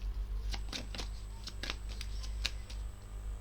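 A deck of tarot cards being cut and handled, giving a series of short crisp riffling snaps at irregular intervals over a steady low hum, close by with no talking.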